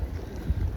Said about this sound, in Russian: Ветер какой здесь.